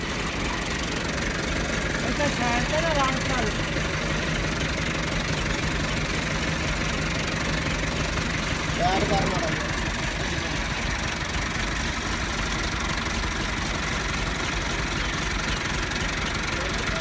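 A tractor engine idles with a steady, dense, unbroken rumble that runs for the whole stretch, close and even in loudness.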